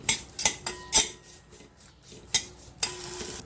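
A metal spoon scrapes and clinks against a pan while stirring roasted cashews and poppy seeds, sharp irregular knocks close by with a light sizzle underneath.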